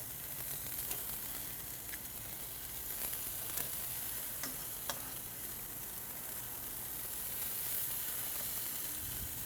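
Chicken wings laid skin side down on a grill sizzle steadily, a dense continuous hiss with a few faint pops and crackles, close and unbroken, with no talk.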